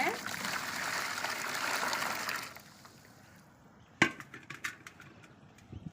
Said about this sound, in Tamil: நம்ம வச்ச சுடுதண்ணி வந்து இந்த டப்பில் சேர்த்துக்கலாங்க